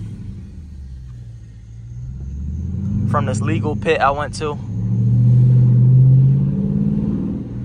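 A Dodge Charger RT drifting, its engine holding a deep, steady rumble that swells louder toward the end, with someone talking briefly over it midway.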